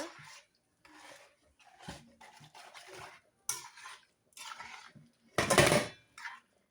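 Seasoned food sprinkled with adobo all-purpose seasoning being stirred in a pot, several close scrapes and clinks of a utensil against the pot, with brief pauses between strokes.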